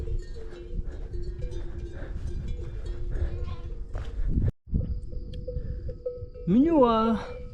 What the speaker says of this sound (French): avec les brebis.